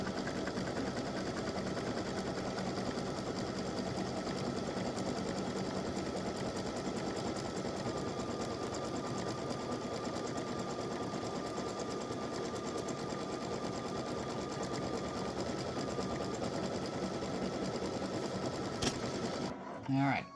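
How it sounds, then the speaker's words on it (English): Embroidery machine satin stitching a patriotic applique design, a steady, fast, close mechanical needle chatter running continuously for the whole stretch and stopping abruptly at the end. "it's finishing up the decorative fill, and it's doing the satin stitching now"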